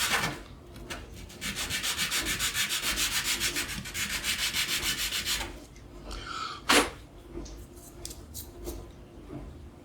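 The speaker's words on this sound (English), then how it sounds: "we're going to take some, I think this is 180 grit, and just sand it down a little bit" A 3D-printed leather stamp is sanded with 180 grit sandpaper in a fast, even back-and-forth rasp lasting several seconds. Scattered scrapes and a sharp knock follow.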